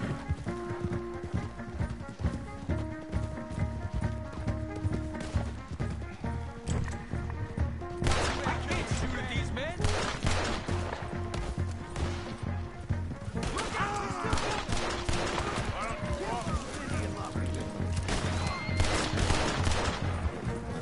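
Scattered gunshots ring out in Red Dead Redemption II over a dense game soundscape of music and galloping horses, with intermittent shots and voices talking throughout.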